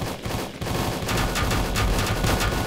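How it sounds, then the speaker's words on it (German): A Gatling gun in the game Volcanoids fires a continuous rapid stream of shots, a dense, loud, rattling roar that keeps going with barely a pause. "Ich weiß nicht, ob das Sinn macht, mit der Gatling Gun auf die Turrets zu schießen"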